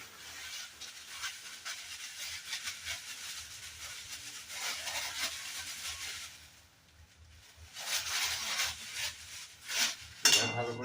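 Coconut is stirred in a hot pan while oil sizzles and hisses steadily, with occasional scrapes and clinks of a spoon against the metal and a brief quieter lull midway.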